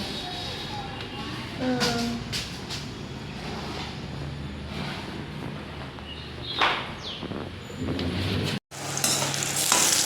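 Eggplant fries in a home kitchen pan with a low, steady sizzle and scattered clinks of utensils. The sound carries on for several seconds and breaks off briefly near the end.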